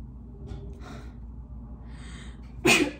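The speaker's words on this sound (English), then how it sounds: "I think I'm going to sneeze." A single sharp sneeze bursts out near the end after a quiet room with faint breathing and rustles, loud and close.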